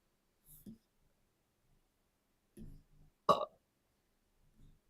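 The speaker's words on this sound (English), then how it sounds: "I just fucking burped again." A single short, close burp comes after a few faint scattered sounds in an otherwise quiet room.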